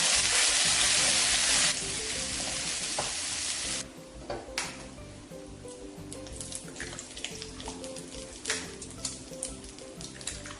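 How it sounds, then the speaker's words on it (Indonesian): Ground spice paste is sautéed in a pan for nasi cikur, a Tasikmalaya kencur rice dish. A loud hiss first rises as the paste hits the oil, then settles into a softer sizzle with intermittent stirring clicks and scrapes. "sekarang kita tumis bumbu dulu ya"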